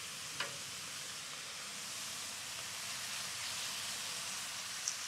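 Steak sizzling on a Pit Boss griddle at a car camping cookout, a steady, even hiss of frying fat running throughout at low level, with a brief scrape near the start.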